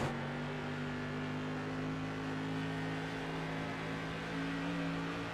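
An SK Modified race car crosses the line at a speedway during a 100-lap feature, its engine a steady, loud drone of sustained tones that holds the whole time with no talk over it.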